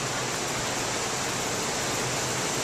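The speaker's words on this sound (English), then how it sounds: "Sorry, guys, but it's freaking pouring." Heavy rain pours down outside a Costco store, a dense, steady roaring hiss that fills the whole moment without pause.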